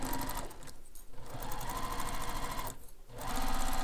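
A sewing machine stitches a fabric carryall bag along marked lines, running steadily and loudly with two brief pauses before the motor picks up again.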